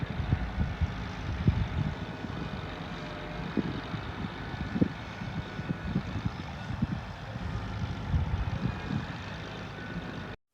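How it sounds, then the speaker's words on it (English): Seed truck on a farm during planting season, engine rumbling steadily at moderate distance as it backs up, with a continuous low drone and scattered clunks; no distinct beeps stand out. "Next, Shawn backs up the seed truck to align with the other tank."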